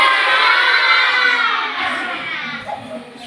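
Group of children shouting together after a breathing exercise, each calling out a favorite thing; a loud, dense burst of overlapping young voices that slowly fades.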